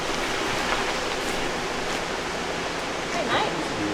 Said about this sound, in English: Waterfall number 2, Zillie Falls.